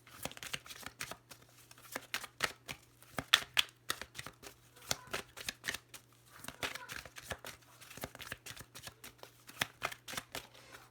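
Oracle cards are shuffled by hand in a rapid, uneven series of crisp riffling slaps and flicks, close and fairly quiet, with a low steady hum underneath.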